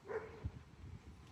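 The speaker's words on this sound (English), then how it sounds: "barking at things and looking at everything" A dog lets out a single short, quiet bark or yip close by, followed by faint low rustling in a quiet room.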